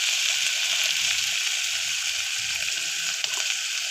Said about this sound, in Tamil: தக்காளி, பச்சை மிளகாய் எல்லாத்தையும் போட்டு வதக்கிக்கணும்